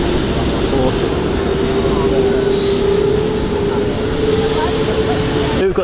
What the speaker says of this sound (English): Here we've got the other beast, the old 777 gliding down taxiway Alpha.